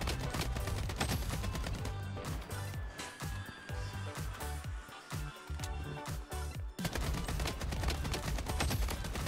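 Repeated AK rifle bursts in the shooter game Bloodstrike, loud rapid automatic fire, then a stretch of sparser single shots and short bursts before sustained fire resumes.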